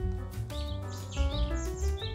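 A Yellow-rumped Flycatcher sings a bright, varied run of clear whistled chirps and trills, close and alone over a steady low background hum.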